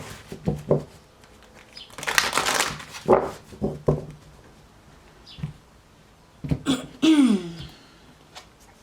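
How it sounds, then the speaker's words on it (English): Tarot cards being shuffled in a quiet room, with several separate riffling and slapping bursts, a longer riffle in the middle and another near the end. "Two more shuffles."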